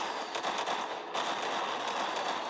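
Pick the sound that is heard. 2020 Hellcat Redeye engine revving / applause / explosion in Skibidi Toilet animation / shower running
explosion in Skibidi Toilet animation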